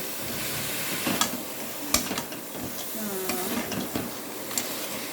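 Ground whole garam masala paste being stir-fried in a pan over a medium flame while cooking special crab, a steady close sizzle with scraping spatula strokes and occasional sharp clinks.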